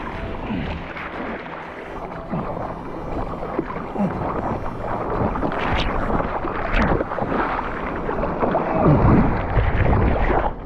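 Choppy ocean water sloshes and splashes around a surfboard being paddled at sea, a continuous close, loud wash with wind buffeting the microphone and intermittent slaps of water.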